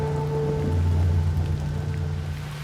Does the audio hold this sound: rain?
yes